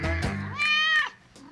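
Kittens meow while being fed, a few short, high, nasal cries in quick succession, close and fairly loud, with a brief quieter call at the end.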